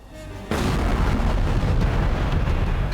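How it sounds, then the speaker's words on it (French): Controlled detonation of a WWII bomb buried under 400 tonnes of sand: a sudden deep blast erupts after a quiet moment and rolls on as a loud, sustained roar to the end. "L'explosion brise les fenêtres et les portes des maisons alentours."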